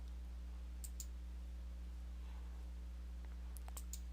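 Mouse clicks while editing HTML content in a DNN web template, a few faint sharp clicks near 1 second and a quick cluster near the end over a steady low electrical hum.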